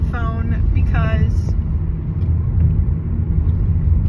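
Steady low rumble inside a moving car, loud and constant throughout, with a voice briefly heard over it at the start.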